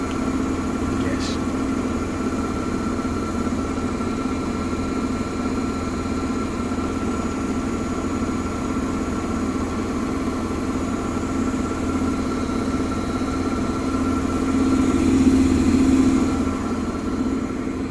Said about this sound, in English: This must be the final spin.